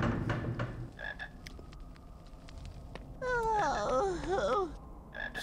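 A frog in the Harry Potter and the Philosopher's Stone PC game croaks in a quick run of warbling, rising-and-falling calls, loud and up close, after a few scattered clicks and thumps, with no voices.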